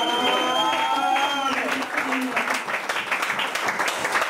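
Congregation applauding during a church ordination ceremony, a dense steady patter of clapping that starts under a sung or spoken voice and then continues alone, fairly loud and close.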